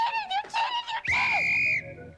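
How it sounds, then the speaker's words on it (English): High-pitched screams from schoolgirls in a film's scream contest, several short shrill bursts followed by one long sustained shriek, loud and close with no talking. "Oh, they count each scream?"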